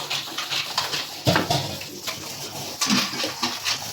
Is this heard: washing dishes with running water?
yes